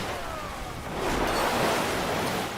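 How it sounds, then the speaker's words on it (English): Broad rushing water and surf noise in the Mount & Blade 2 Bannerlord naval battle, swelling louder after the first second and holding steady without speech. "I can hear a lot of water."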